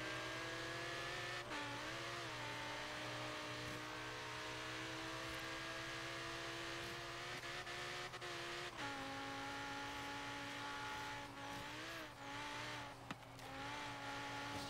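A car engine in Forza Horizon 3 drones continuously with rising and falling pitch as it accelerates and shifts, a high turbo whine running steadily over it.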